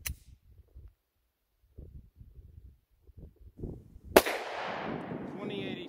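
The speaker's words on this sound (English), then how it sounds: "Here we go, Glock 19, Liberty Defense, 50 grain ammo," A Glock 19 pistol fires a single loud, sharp shot of 50 grain Liberty Defense ammunition outdoors at a range, followed by a long echoing decay, after some brief murmured talk beforehand.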